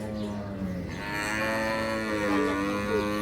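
Water buffalo at a village cattle market low in a single drawn-out, nasal moo that rises and holds for a few seconds, fairly close and clear with no talk over it.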